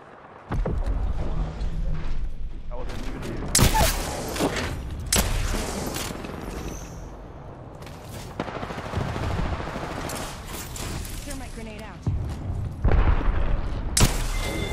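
Shootout gunfire in a battle-royale squad video game: rapid bursts and sharp single shots crack repeatedly, loud and close, with clusters of automatic fire separated by brief lulls.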